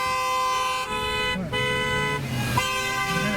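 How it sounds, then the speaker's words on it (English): Car horns honk repeatedly at a car on the road, sustained toots with a few breaks and changes in pitch, loud and close. "I think they're honking because I'm worried now."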